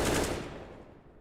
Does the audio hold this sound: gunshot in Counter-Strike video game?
yes